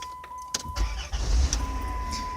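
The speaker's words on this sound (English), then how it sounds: "But if I crank the car up, I'm driving around." A car engine is cranked and starts with a few sharp starter bursts, then catches into a low rumbling run, loud and close, with no talking.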